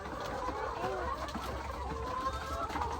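Chickens cluck continuously in a busy, noisy farmyard, overlapping calls mixed with steady background rumble.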